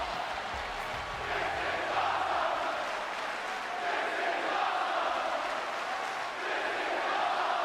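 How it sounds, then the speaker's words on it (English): A wrestling arena crowd in the WWE 2K20 video game chants "This is awesome" at an NXT TakeOver event, a broad, steady roar of many voices filling the space at moderate loudness. "this crowd chanting, "This is awesome,""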